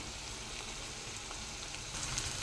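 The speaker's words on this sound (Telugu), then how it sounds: "ఆయిల్ హీట్ ఎక్కింది కదా ఇప్పుడు ఆనియన్స్ ఎగుతున్నాయి కదా" Onions frying in hot oil for a small-fish tamarind curry give off a steady, close crackling sizzle that holds even throughout and rises slightly near the end.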